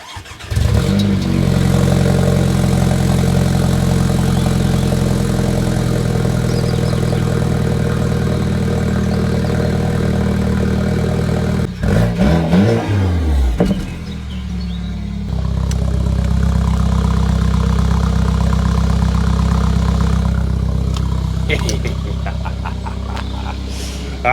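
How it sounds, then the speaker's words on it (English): A car engine cranks and catches, then settles into a steady low idle for a long stretch, with a brief burst of rattling and shifting noise midway before the even rumble resumes. "let me turn the car on"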